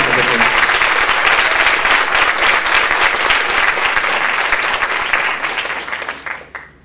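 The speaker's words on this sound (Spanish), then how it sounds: "Un fuerte aplauso para los panelistas." An audience at a justice-themed panel event in Argentina gives the panelists sustained, even applause that fades out at the end; some voices blend into the clapping.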